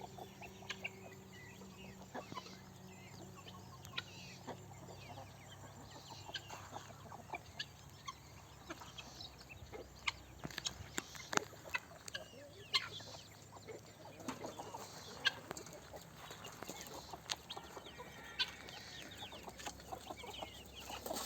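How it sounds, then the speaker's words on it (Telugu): Country chickens cluck and squawk continuously, with sharp pecking and scuffling bursts as they jostle, fairly quiet and close. "చూడండి మా కోళ్ళు."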